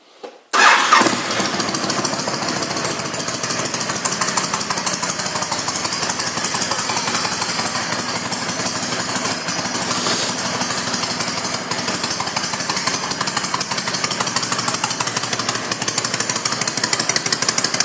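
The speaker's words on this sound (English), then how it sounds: "We'll fire it up here so you can hear it run" A 2006 Honda VTX1300R motorcycle with aftermarket pipes starts with a brief crank, then settles into a loud, steady idle that rumbles on evenly without talking.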